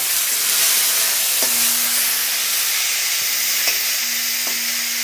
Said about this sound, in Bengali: এইবার দিয়ে দেব টমেটো, কাঁচা টমেটো পাতা।